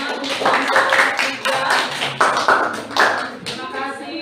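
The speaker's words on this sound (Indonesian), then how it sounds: "Oke, tepuk tangan untuk kelompok" A small class group claps steadily for a few seconds after a presentation, the hand claps close and distinct rather than a large roaring crowd.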